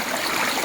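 A mountain stream in a Dagestan gorge flows in a steady, close broadband rush of water for a brief moment, with no voices.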